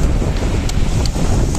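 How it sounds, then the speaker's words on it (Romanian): Storm wind buffets the microphone on the Black Sea coast, a loud, steady roar with low rumbling gusts and surf noise underneath, no voices. "este furtuna și marea a avansat foarte, foarte mult"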